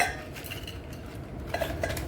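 Something is dropped into a pot of tea on the stove, with faint clinks of a metal spoon and utensils against the pot amid low background hiss.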